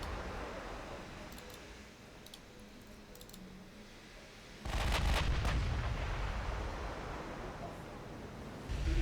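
Naval artillery salvos in a World War II strategy game, a low rumbling barrage that bursts in loudly midway and keeps booming, with faint clicking earlier.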